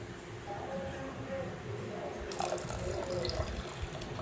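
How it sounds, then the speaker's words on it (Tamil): Cow's milk pours into a pot of urad dal porridge, a soft continuous liquid trickle that grows fuller toward the end, close and fairly quiet. "பசும்பால் தான் நான் ஊற்ற போகிறேன்"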